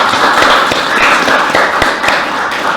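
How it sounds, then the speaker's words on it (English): A small outdoor crowd on a mayor's safety tour claps for a city councilor, loud, close, fairly sparse hand claps with distinct individual claps standing out. "Councilor Chuck Conner, please give him a round of applause"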